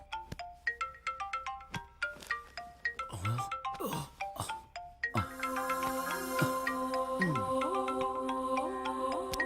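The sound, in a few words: phone ringing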